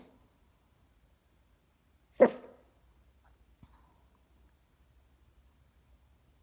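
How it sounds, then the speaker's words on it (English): A small dog gives a single short, sharp bark, close and fairly loud in an otherwise quiet room, followed by faint soft shuffling. "Those are the cutest little woofs ever."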